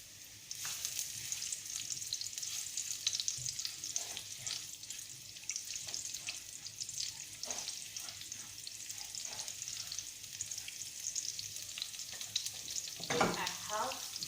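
Shallot and diced garlic frying in groundnut oil, a steady close sizzle with occasional scraping stirs and light clinks running for several seconds.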